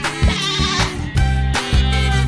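Goat bleating in several loud, wavering, harmonic-rich calls that come in repeated bursts close to the listener.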